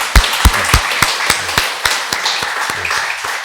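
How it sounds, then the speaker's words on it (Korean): A Sunday service congregation in a church claps together in a loose, steady rhythm, sharp near claps over a softer spread of hands, with faint voices underneath. "박수 한번 하시겠습니다"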